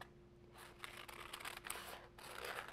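Scissors cut fabric for a no-sew costume neckline, a series of soft, close snips and rustles at an uneven pace, quiet under a faint steady background hum.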